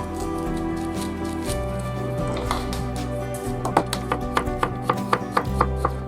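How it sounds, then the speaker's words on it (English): A knife slices a very large cucumber on a board, giving a run of crisp, close taps in a steady rhythm toward the end, about eight cuts over a low background hum. "So I'm just going to slice 2 slices of cucumber to go with it."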